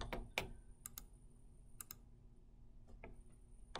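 Sharp clicks of a computer mouse while an image is cropped in a crop tool, a handful of dry isolated taps at irregular intervals over a quiet, faintly humming background, close and without speech.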